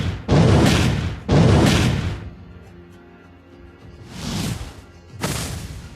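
A rain of fire skill attack in a mobile battle game, heard as four loud, broad booming blasts in two pairs, with a quieter gap of low rumble between them.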